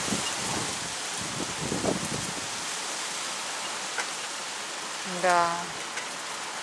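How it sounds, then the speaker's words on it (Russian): Heavy slanting rain falls steadily as a dense, even hiss, with a person speaking briefly and a short voiced sound near the end. "А то туда дождь. Он как раз косой идет вот так вот."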